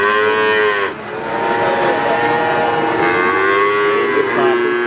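Cattle lowing loudly and continuously at a cattle market in Blora, Indonesia, with long overlapping moos from several animals close by and a busy background.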